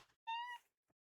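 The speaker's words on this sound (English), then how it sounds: "It's the kitty cat." A house cat gives a single clear, close meow lasting about a third of a second, followed by quiet.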